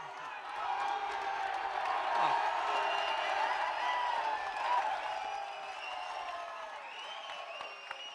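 A crowd at the UFC 305 pre-fight press conference in Perth, for Dricus Du Plessis vs. Israel Adesanya, keeps up a sustained roar of cheering and whoops, with mixed voices blending into the steady noise.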